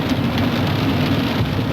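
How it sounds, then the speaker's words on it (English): Heavy rain pours down in a steady, loud, unbroken wash of noise with no pauses and no talking. "Wow, is the rain coming down."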